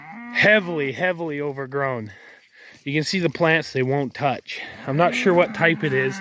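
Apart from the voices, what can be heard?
cow bellowing in pasture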